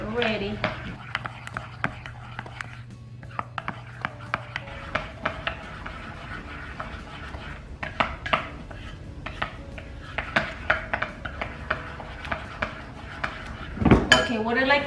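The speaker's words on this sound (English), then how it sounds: "Stir this white chocolate with peanut butter." A spoon stirs melted white chocolate with peanut butter in a bowl, with repeated close clinks and scrapes against the bowl in an irregular rhythm, and a louder clatter near the end.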